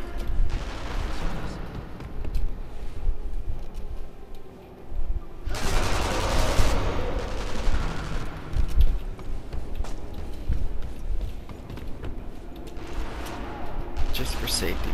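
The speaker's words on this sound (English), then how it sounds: "So let me pull out my machine guns." Machine gun fire in the video game Sniper Elite V2, rapid bursts of shots with loud broadband crackle, the heaviest burst in the middle, mixed with game sound and ambience.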